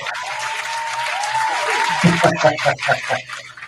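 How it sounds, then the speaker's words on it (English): Studio audience applause rises briefly, underneath a voice and a tonal sound early on, then breaks into scattered claps and some chuckling near the end. "you get a big round of applause"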